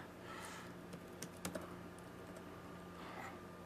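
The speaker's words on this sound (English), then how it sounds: "we'll just type in, I don't know, we'll type in Takeshi" Computer keyboard typing, soft scattered keystrokes with a couple of sharper taps near the middle, faint and close against a low hum.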